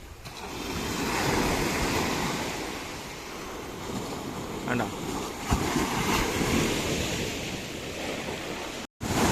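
Rough sea surf crashing and roaring on a beach where fishermen stretch out a net, a continuous broad wash of waves mixed with wind noise on the microphone.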